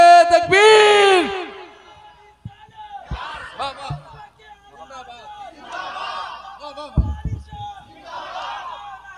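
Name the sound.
crowd chanting the takbir slogan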